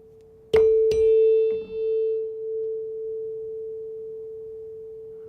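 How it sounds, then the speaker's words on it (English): Two nearly matched steady sine tones sound together after a pair of chime-like strikes, forming one sustained pure hum whose loudness swells and fades slowly, about once per second, with no voices. "when I play them, we should hear the intensity changing about once every second"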